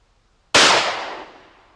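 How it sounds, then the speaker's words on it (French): One sharp, loud shot from a 20-gauge hunting shotgun fired through its full-choke barrel bursts out of near silence, then its echo trails off slowly over about a second. "nous allons tirer avec le canon choc de ce calibre 20"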